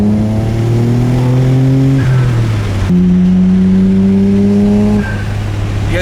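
A single-turbo BMW M3 engine revs loudly and climbs through the gears, dropping briefly between shifts before rising again, close and sustained.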